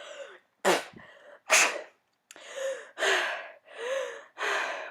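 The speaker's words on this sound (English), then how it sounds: "coughing and spitting up water" A woman coughs and gasps after nearly drowning in a water tank, giving several close, harsh, wet bursts with sharp breaths between them.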